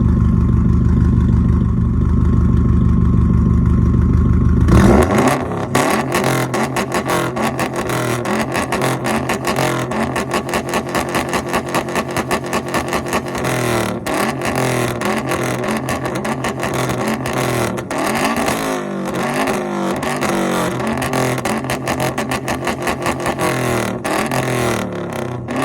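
A catless, straight-piped Subaru STI engine idles at first, then revs hard and holds a loud, raspy, sustained roar with rapid pulsing, close to the recorder, with no talk.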